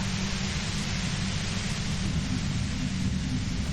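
Dense, steady hiss of white noise in the video game Disco Elysium, loud and unbroken throughout with a low rumbling layer underneath, heard alone without talk.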